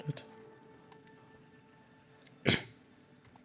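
A single sharp sneeze bursts out in The Outer Worlds, close and brief, set against a quiet hum with a faint earlier sound and a voice nearby.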